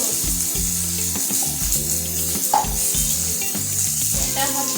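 Chopped eggplant sizzling steadily in a hot pan as spices are added one by one, with intermittent stirring scrapes and clinks over a constant loud frying hiss and some background music.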